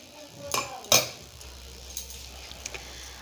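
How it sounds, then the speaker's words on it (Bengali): A large spoon scrapes and clinks against a bowl while spooning in ginger-garlic paste for a fish pakora batter, a few sharp metallic taps close up over a quiet room, with a low hum underneath. "আমি এখানে 2 চামচ আদা রসুন বাটা দিয়ে দিচ্ছি। আমার চামচটা একটু বড়"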